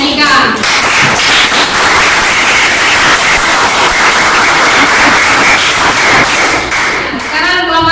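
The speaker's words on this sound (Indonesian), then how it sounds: "tepuk tangan untuk kelompoknya Nika." Classroom applause for a student group after their presentation, loud close clapping that is dense and continuous, with some voices mixed in, briefly easing near the end.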